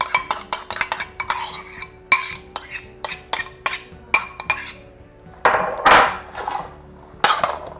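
A metal spoon stirs boiled cauliflower, potato and onions through a marinade in a bowl, with a quick run of sharp clinks and scrapes, then slower, heavier stirs and a few last taps.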